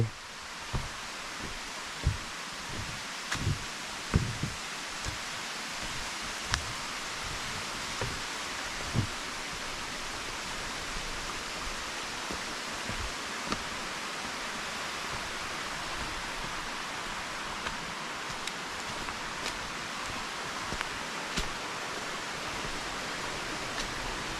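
Tad Kon waterfall in Xon district, Houaphanh, roars as a steady broadband rush of falling water, with scattered close clicks and knocks over the constant wash.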